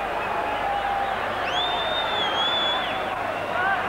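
A large rugby league stadium crowd at a 1983 New Zealand vs Australia match in Brisbane roars in a steady, distant wash of cheering, with whistles rising above it and a commentator talking over the noise.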